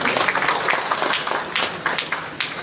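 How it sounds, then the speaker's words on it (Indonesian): Audience applause at an official ceremony where a regent is installed as regional association chair, with governor and regents present; dense steady clapping fills the whole stretch at moderate loudness, with no talk over it. "seluruh bupati yang hadir di sini juga mohon tepuk tangannya"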